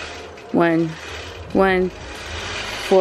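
A longarm quilting machine runs in short motorized bursts, each a whirring tone that sweeps upward in pitch, with three bursts spaced about a second apart over a steady low background hum.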